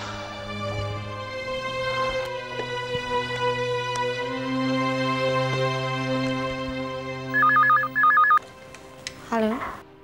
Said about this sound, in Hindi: पायल तुम्हारे पापा का फोन है।